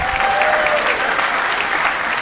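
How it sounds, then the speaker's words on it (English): Comedy club audience at a ventriloquist puppet show applauding loudly and continuously, a close, dense wash of clapping for about two seconds. "Give him a nice round of applause for Larry Jerry"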